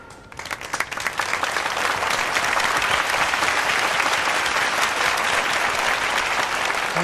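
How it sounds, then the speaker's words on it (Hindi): A crowd applauds as first prize goes to Chintu Singh and his father Charlie at a prize distribution, loud sustained clapping that swells within the first second and holds steady throughout. "एक बार फिर से जोरदार तालियां।"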